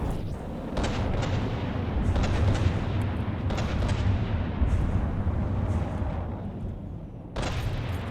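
Missile salvos and explosions in From the Depths during an airship battle, a continuous dense rumble of booms with repeated sharper impacts and a fresh heavy blast near the end, loud and close with almost no talk.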